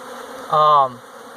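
Honey bees at a hive entrance, one loud bee droning close past for about half a second against a steady soft background hum of the colony.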